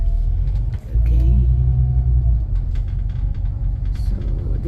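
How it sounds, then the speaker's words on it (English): A city bus pulling away from a traffic light on a one-way lane beside building construction, its engine a loud, steady low rumble that swells as it moves off, heard close from inside. "Now the light turns into go. So the bus that I'm sitting is now running."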